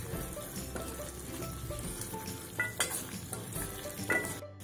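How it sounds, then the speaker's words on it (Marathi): Dried bangda mackerel is stirred into a sizzling curry of vegetables and brinjal in a pan, with a continuous low frying hiss and a few clinking scrapes of the spoon against the pan. "मस्त असं मिक्स करून घ्यायचंय।"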